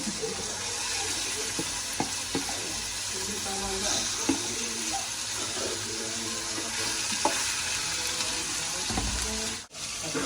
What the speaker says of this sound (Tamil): இந்த எண்ணெயில் கொஞ்சம் பொரிக்கட்டும்